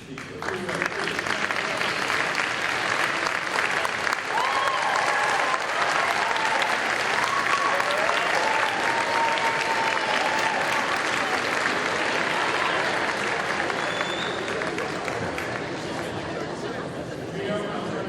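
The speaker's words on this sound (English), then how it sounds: "join me in a round of applause for this great group of people" Sustained round of applause from a reception crowd honoring coaches and athletic staff at a college all-sports event, steady and loud for the full stretch, with murmured chatter mixed underneath.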